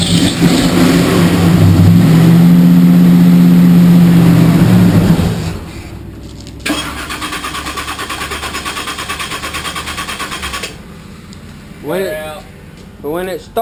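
A car engine, given a splash of fuel, cranks and catches, roaring loudly for about five seconds before dropping to a steady, lower running drone, with a short voice near the end.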